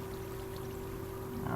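Water pouring steadily into a small pool in Minecraft, a continuous soft rushing splash with an even level throughout and a slight swell near the end.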